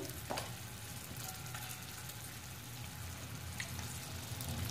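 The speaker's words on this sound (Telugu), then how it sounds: "బ్రౌన్ కలర్ వచ్చే వరకు గుడ్స్ అన్నీ వేపుకోవాలి." Eggs fry in a pan with turmeric, chili powder and salt for a tomato egg curry, producing a soft, continuous sizzle with faint crackles.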